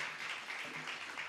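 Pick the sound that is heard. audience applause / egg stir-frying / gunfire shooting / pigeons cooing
audience applause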